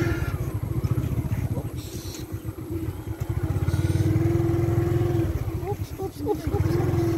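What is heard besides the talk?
motorcycle being ridden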